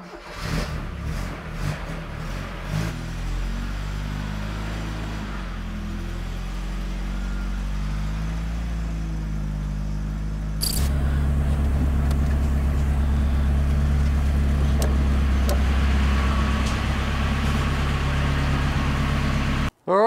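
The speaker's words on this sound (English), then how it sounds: "now it's time for a quick test drive to make sure I didn't break anything last night." Toyota Celica RA28 fastback on a test drive, its engine heard from inside the car as it revs and shifts, then settles into a loud steady drone at speed.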